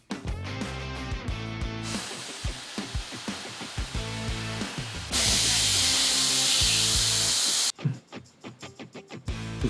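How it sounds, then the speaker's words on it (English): A sustained aerosol spray of thickening hair spray hisses loudly for a couple of seconds over rhythmic background music, then stops. "Now I'm gonna pop in some ADDPOWER thickening spray"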